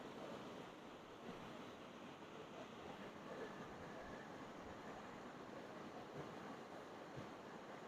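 A river flowing, heard as a steady, broadband rushing wash with some wind, constant and unbroken for the whole stretch, with no talking.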